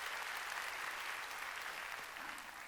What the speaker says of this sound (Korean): 자신에게 박수 치라고.